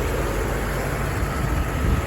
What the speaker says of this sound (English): That's the fan.